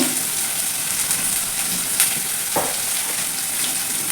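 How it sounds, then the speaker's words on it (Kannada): Chopped carrots frying in an oil pan with curry leaves for upma, a steady close sizzle running throughout with a few soft stirring clicks, no talking. "ಅದನ್ನು ಕೂಡ ನಾನು ಫ್ರೈ ಮಾಡ್ಕೊತಾ ಇದ್ದೀನಿ."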